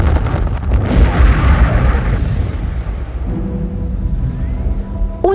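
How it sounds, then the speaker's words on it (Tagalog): A stove in a kitchen explodes with a loud, sustained roaring blast of broadband noise that gradually thins out, followed by crackling, and a sharp burst at the very end. "isang napakatinding pagsabog sa kusina ang nangyari."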